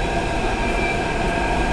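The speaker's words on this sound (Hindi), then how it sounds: "अब हमारी मेट्रो आ गई है" Metro train arriving at Shahdara station in Delhi, a continuous loud rumbling roar of the cars rolling along the rails with steady mechanical hum, heard close and alone.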